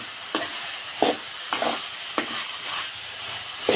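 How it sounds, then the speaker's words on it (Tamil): Brinjal sautéing with chili powder in a pan, a steady soft sizzle broken by about five scraping stirs of a spatula at regular intervals, close and fairly quiet. "இது நல்லா வதங்கட்டும்"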